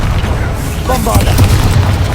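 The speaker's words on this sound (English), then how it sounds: "Bombarda!" A Bombarda blast spell cast in the Hogwarts Legacy video game lands as a deep, rumbling boom that rolls through the whole moment over steady low-end game noise, with spoken voices mixed in.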